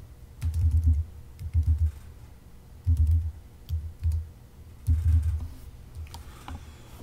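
Fingers tap on a computer keyboard in short clustered bursts of soft, close keystrokes with brief pauses between them.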